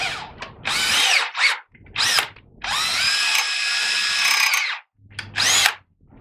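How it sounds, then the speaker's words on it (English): A power drill whines in repeated bursts while drilling into plastic, short pulses followed by a longer sustained run, close and loud, with brief pauses between. "I don't want to drill all the way through the plastic"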